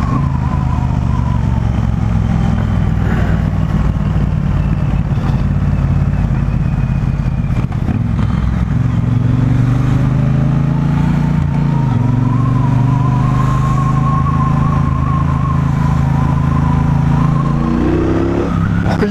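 Triumph Bonneville Bobber two-cylinder motorcycle with twin exhausts, engine running loud and close with a steady low idle rumble, then revving up with rising pitch around the middle and holding a strong throttled drone to the end, no talking.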